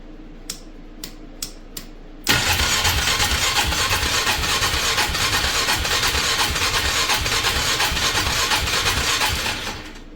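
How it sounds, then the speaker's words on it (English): A Polaris Magnum 330 ATV with a hard-start problem: a few brief clicks, then the starter cranks and the engine catches, running loud and steady until it fades near the end. "should be good to just bump the starter and make sure that's working"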